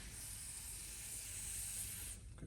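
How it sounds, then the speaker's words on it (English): Penetrating fluid sprayed from an aerosol can onto the rusty thread of a Dodge/Chrysler power steering box, a steady close hiss that runs continuously for about two seconds before cutting off. "Every time we spray it, more rusty, muddy rubbish comes up out of the thread."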